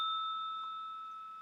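A single bright bell ding rings out clearly, its pure tone sustaining and slowly fading in a quiet room, with no voices.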